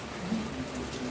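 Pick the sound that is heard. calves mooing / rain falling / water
rain falling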